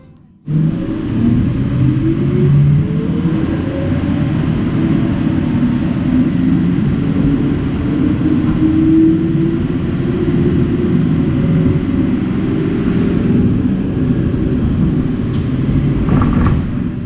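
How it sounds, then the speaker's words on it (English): Diesel-powered Siemens Combino Duo tram running on the narrow-gauge line in Nordhausen, a steady low engine rumble with a rising motor tone as it pulls away, continuous and close for the whole stretch. "this tram is running by a diesel engine"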